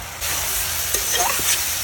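Bottle gourd being stir-fried in a pan for a gourd and shrimp dish bursts into a loud, close sizzle after a brief pause, with a few spatula scrapes through the steady hiss.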